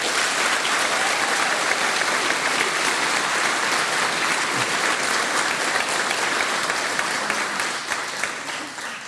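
A graduation convocation audience at OHSU applauds the faculty, dense sustained clapping from a large crowd that fills the room and fades slightly near the end.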